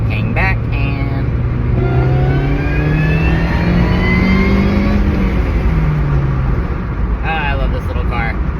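Saturn Ion Redline with a small supercharger accelerating on a busy road, engine note climbing steadily through the gears with rising whine, heard from inside the car as a brief voice speaks at the start and end.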